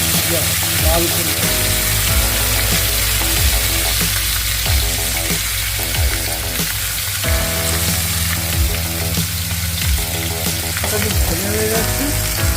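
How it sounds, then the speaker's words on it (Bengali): Rohu fish pieces, flipped to cook the other side, sizzle loudly in hot oil with repeated scraping and stirring clinks, and a voice talks intermittently over the frying. "আরেকটা দিক ভাজা যাচ্ছে।"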